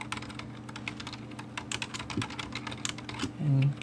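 Rapid clicking of a computer keyboard while coding a Win32 MIDI piano program, irregular bursts of keystrokes fairly close, with a low hum behind and a brief low tone at the end.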